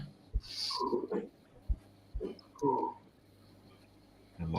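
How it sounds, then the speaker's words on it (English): A dog huffing and puffing indoors at a barn as if hearing something outside, giving a few breathy snorts and grunts at irregular intervals, fairly close. "He's back here hoofing and puffing like he hears something outside."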